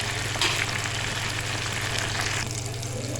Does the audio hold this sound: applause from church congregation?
no